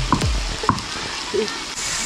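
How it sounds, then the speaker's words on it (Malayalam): Ginger and garlic fry in a pan of hot oil with a steady sizzle, broken by short clanks and scrapes of a spoon stirring. A voice comes in briefly. "കുറച്ച് ഇഞ്ചി വെളുത്തുള്ളിയും കൂടി ഇടുവേട്ടാലും ആദ്യം ഇട്ട കരിഞ്ഞു പോകുന്നതാണ്"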